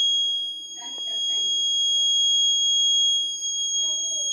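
An IoT fire detector alarm sounds as a continuous steady high electronic tone, with faint low background noise and murmurs underneath.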